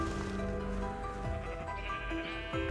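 Sheep in Minecraft bleat in a clear, wavering, harmonic cry that carries on across the whole moment, close and prominent, over a soft background.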